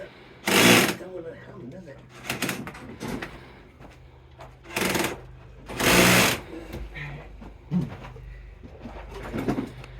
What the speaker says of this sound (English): Put it onto drill mode and probably the clutches kicking in, isn't it?